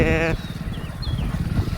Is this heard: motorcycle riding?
yes